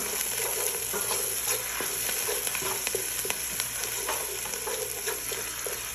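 Tomato paste is stirred in a pan, a continuous close sizzle broken by frequent small scraping and clicking touches of a utensil, steady and fairly loud, with no talking.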